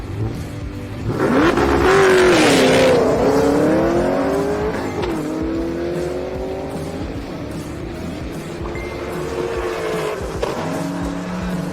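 A GTO and a Nova make drag-racing passes at the Sick Summer 2024 event, with loud engines revving hard and climbing in pitch through gear changes, then fading as the cars pull away down the strip.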